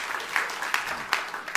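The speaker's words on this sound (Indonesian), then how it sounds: "Oke, beri tepuk tangan dulu bagi Allahmu yang luar biasa." A church congregation claps together, a soft, steady patter of hand claps with a few sharper bursts standing out, heard fairly faintly throughout.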